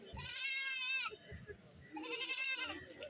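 A Sirohi goat kid bleats at a busy goat market in Kerala, giving two loud, close, wavering cries separated by a pause, with faint crowd noise underneath.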